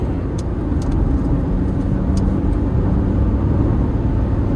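Car engine pulling hard in fourth gear, a steady loud broadband drone of motor and road noise sustained throughout with no talk.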